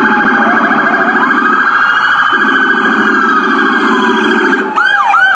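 A loud US police car siren wails continuously, alternating between two tones and switching briefly to a rapid yelp at the end.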